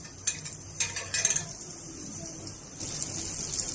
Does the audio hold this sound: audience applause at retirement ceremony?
no